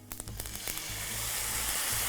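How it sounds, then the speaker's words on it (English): Tempeh sizzling loudly in a hot frying pan as dressing is added, a few clicks and taps first, then a steady crackling hiss. "Oh, I love that sizzle."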